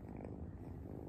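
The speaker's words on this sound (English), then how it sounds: "Those are nice purrs." A cat purrs while sitting on a lap, giving a soft, steady low rumble that continues evenly from start to finish, close and quiet.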